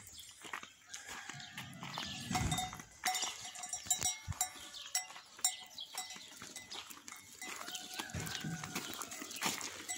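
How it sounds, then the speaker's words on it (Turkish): Sheep and goats wearing bells move through a Turkish village, with clanking bells and scattered animal calls, shuffling hooves and bursts of noise close by; no speech is heard. "Koyunlar gel."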